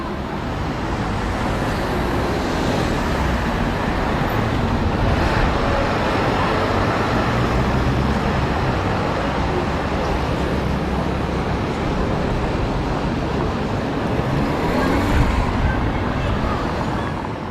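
Busy London roadside as a bus approaches a stop, a steady broadband rumble of engine and traffic noise lasting throughout, fairly loud and constant with no clear voices.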